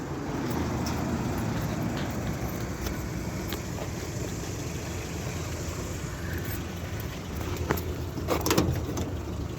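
A 1963 Peugeot 404 on the move, a steady low engine and road rumble from inside the cabin with faint rattles, and a couple of brief knocks near the end, with no talk.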